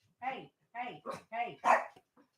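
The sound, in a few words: dog barking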